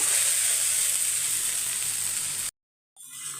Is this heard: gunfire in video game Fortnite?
no